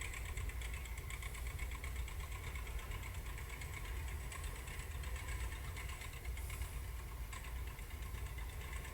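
A low, steady tractor engine rumble idles at a constant pace, with a faint rhythmic knock and no voices.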